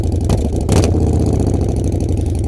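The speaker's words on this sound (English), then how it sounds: "It's the Yamaha Warrior. This thing's freaking loud." A Yamaha Warrior ATV engine runs loudly and steadily up close, a rough mid-pitched idle with a couple of brief rev bursts, and no talking.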